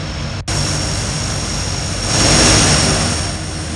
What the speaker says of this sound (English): Now we'll see if the big plane is gonna escape.